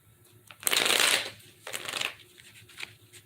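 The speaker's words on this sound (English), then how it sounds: "I'm going to shuffle 5 times" Tarot cards are shuffled twice, a long riffling burst followed by a shorter one, close and crisp, with a few soft card taps afterward and no talk.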